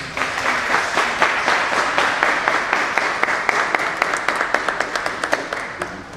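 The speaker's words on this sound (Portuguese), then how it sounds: "Uma salva de palmas." Sustained, dense applause from an audience at a commercial association's ceremony honouring a pioneer's family, steady throughout and closing with slower individual claps near the end.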